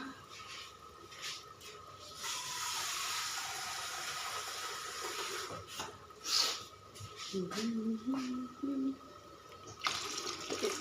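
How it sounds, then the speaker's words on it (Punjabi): Water runs steadily into a vessel for several seconds, a continuous splashing rush, with brief bumps and a few clanks near the end. "ਲਓ ਜੀ ਪਾਣੀ ਪਾ ਦਿੰਦੇ ਆ"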